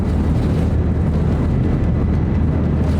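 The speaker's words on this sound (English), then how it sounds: "Airwolf helicopter here." Inside the Airwolf helicopter in Splinter Cell: Blacklist, a loud, steady low rotor and engine drone hums continuously, with no voices over it.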